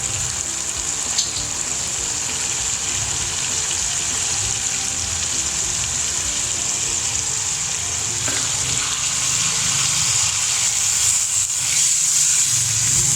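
Water hits a hot pan of chili chicken gravy cooking in a karahi, giving a steady broad hiss and sizzle that holds evenly loud throughout, with no talking.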